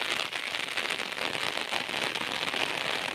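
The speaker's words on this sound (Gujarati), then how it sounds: "આ તો છત્રીના છોટા પડી છે એટલે સમજી લો કે વરસાદ આવે જ છે" Rain drums on an umbrella during a downpour in Lunpur village, Banaskantha, a close, busy crackle of drops pattering steadily without any speech.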